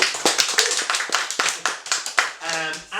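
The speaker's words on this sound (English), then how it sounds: "Give him a round of applause." A small audience claps for a Dutch science fiction author at a reading event, a quick run of distinct, close handclaps that thin out toward the end as a voice comes in.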